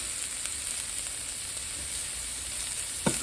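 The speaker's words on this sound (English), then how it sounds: "We just want to sear these a little bit." Chicken pieces searing in a little vegetable oil for a casserole, a steady, faint hiss of frying with one small knock near the end.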